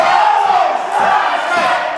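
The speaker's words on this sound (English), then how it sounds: "The crowd firmly behind Tenney here" A wrestling arena crowd at an NWA Mountain State show cheers and yells loudly and continuously, a dense roar of voices close around throughout.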